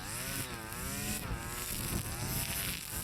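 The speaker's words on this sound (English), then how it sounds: "The trimmer's getting a workout." A Stihl FS 251 string trimmer cutting through an entire field, its engine whining steadily at high revs with rising and falling pitch, loud and close.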